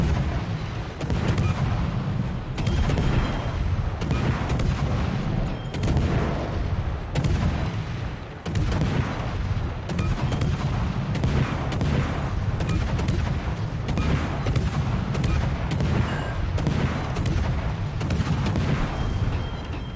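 Naval guns fire from the Dutch gunboat Groningen in World of Warships, repeated heavy booms and volleys in quick succession, loud and sustained with barely any pause.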